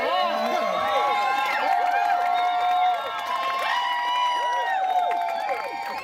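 At a bike trials demo during a New Jersey bike festival, a crowd of children screams and cheers in overlapping, rising and falling shouts, loud and close throughout.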